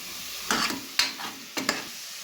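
Mutton masala being fried for sambar, three or four distinct scraping stirs of a spatula in a sizzling pan, close and clear with no talk.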